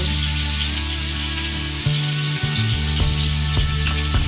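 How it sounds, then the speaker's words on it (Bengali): Potatoes frying in a pan with salt and turmeric, a continuous loud sizzle with occasional stirring scrapes and clinks, and a low steady hum running underneath. "হলুদ গুঁড়ো লবণ আর হলুদটাকে আলুর সাথে নাড়াচাড়া করে মিশিয়ে নিয়ে আলুগুলোকে লাল লাল করে ভেজে নেব"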